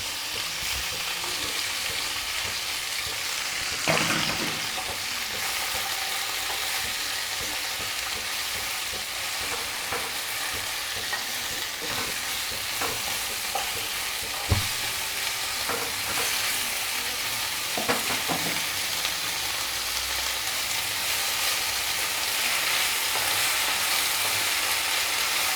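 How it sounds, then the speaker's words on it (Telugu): Washed mint leaves fry in a pan for mint chutney, giving a steady broadband sizzle throughout with occasional sharper clicks and scrapes of stirring, fairly close and without any talk. "కడిగి పెట్టుకున్న పుదీనా అంతా ఇందులో వేసి కొంచెం వేయించాలి."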